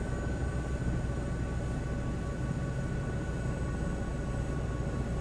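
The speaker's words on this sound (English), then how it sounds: "I can hear the engine just winding down" Simulated aircraft engine winding down in Microsoft Flight Simulator 2024, heard as a constant, fairly loud droning hum with thin high whine tones running steadily throughout, no speech present.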